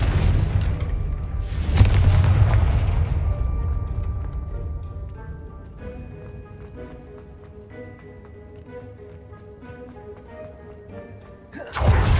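Confringo blast spells go off in Hogwarts Legacy as loud, booming bursts with a rumbling decay, the strongest early on and another at the very end, while steady game music plays in between.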